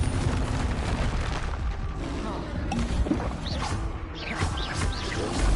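Confringo blasting-spell explosions in Hogwarts Legacy combat, heavy booming rumble and crackle filling the whole stretch at steady loudness, with whooshing spell effects and faint voices mixed underneath.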